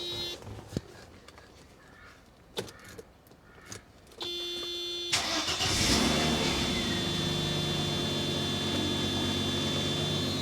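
A Mercedes W124 engine cranks a few times after a fuel pump and filter change, catches with a roar, then settles into a loud, steady running idle close by.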